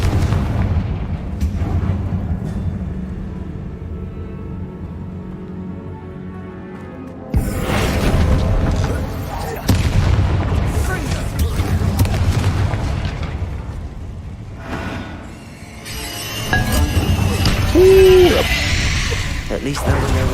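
Confringo fire spell blasts going off in the Hogwarts Legacy game, several booming explosions with rumbling tails spread through the stretch under game music, a voice speaking intermittently.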